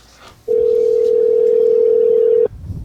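A telephone line sounds one steady, unbroken tone for about two seconds before cutting off abruptly, loud and close against faint background hiss, while calling in to a podcast.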